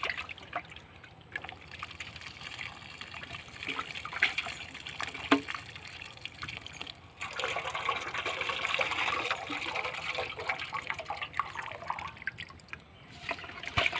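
Water poured and splashing while freshly caught fish are washed beside an irrigated paddy field, a faint uneven trickling and sloshing that swells in the middle, heard outdoors at low level.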